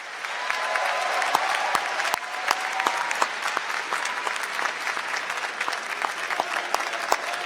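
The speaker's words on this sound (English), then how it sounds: "So graduates, please give all of your family and friends a round of applause" A large audience at a 2019 USU commencement ceremony gives a sustained round of applause for the graduates' family and friends, a dense, even wash of clapping with sharp individual claps standing out throughout.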